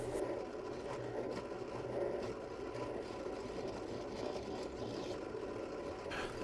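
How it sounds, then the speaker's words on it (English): Faint, steady rasping of a square metal file scraping back and forth, cutting teeth into a circular saw disc, quiet and close, with no talking. "This right here is actually the best way to create the teeth on the disc, just a square file"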